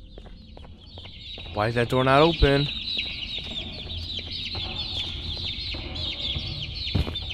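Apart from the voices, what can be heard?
chickens clucking in video game Garten of Ban Ban 2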